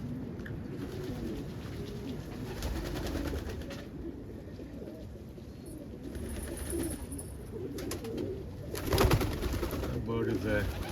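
Pigeons coo in low, repeated murmurs close by, with rustling and brief bursts of noise among birds, and a person talking now and then over them.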